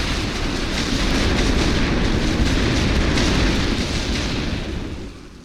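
Constant heavy artillery fire and explosions in The Great War: Western Front game, a dense, loud wall of booms and rumbling bursts that barely lets up before tapering at the end.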